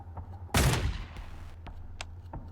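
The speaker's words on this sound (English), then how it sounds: "A gunshot rings out and the crowd scatters." A single loud video game gunshot bursts near the start and decays into a brief echoing tail, followed by faint scattered clicks.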